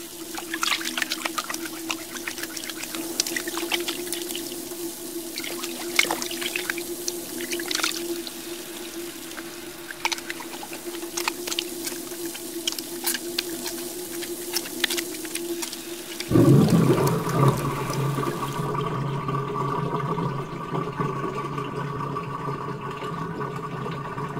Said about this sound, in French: on entendait de l'eau couler.